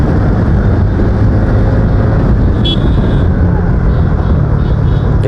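Yamaha FZ v3, FZ v4 and TVS Ntorq scooter racing on a road, a continuous loud engine and road roar filling the whole stretch with steady wind-blasted rumble.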